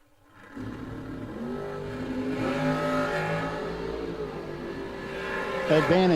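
A drag racing car accelerates down a racetrack at a bracket series event, its rising engine roar building steadily over a few seconds, heard from a distance with a commentator talking over it.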